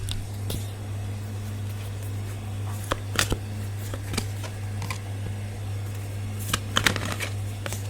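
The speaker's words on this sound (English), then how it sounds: "let's pull some cards and see what's happening" Tarot cards are shuffled by hand, with scattered soft riffles and taps over a steady low electrical hum. Nobody speaks.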